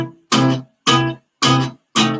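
Electric guitar played hard through an amp with heavy-handed technique: four loud, abrupt chord stabs in a steady rhythm, each cut off short and separated by silence, close and with no talk.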